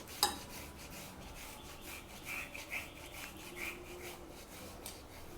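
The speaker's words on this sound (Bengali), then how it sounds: "একটা ছোট সাইজের আলু আমি গ্রেট করে দিচ্ছি" A small potato grated by hand for an egg breakfast dish, a soft, steady rasping scrape repeating close up and quiet, with no voices.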